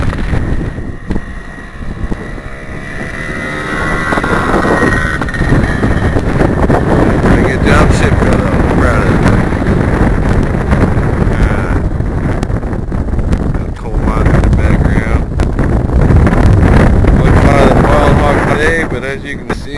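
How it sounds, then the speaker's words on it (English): Strong, gusty wind roars and buffets the microphone outdoors near a small Suzuki engine, a loud continuous rumble that swells and dips without pause. "the wind is blowing pretty vicious out here"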